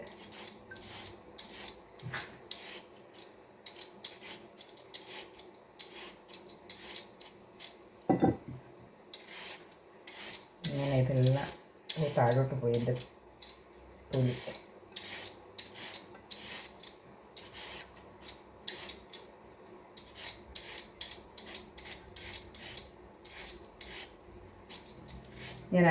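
A vegetable peeler scrapes in quick, repeated rasping strokes, close and steady, over a faint room background.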